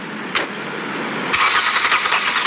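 A car engine cranking with a short starter whir, then a longer rising churn that never settles into a running idle, loud and close with no voices.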